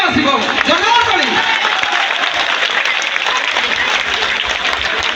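Audience applause at a Jagannath devotional bhajan gathering, a loud sustained wash of many hands clapping for about five seconds, with a voice briefly audible at the start.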